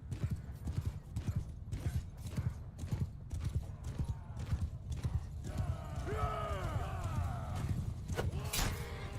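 Horses gallop with rapid, steady hoof clip-clop through a Mount and Blade battle, with neighs and whinnies rising near the end; the hoofbeats are continuous and fairly close, under battle noise and occasional faint voices.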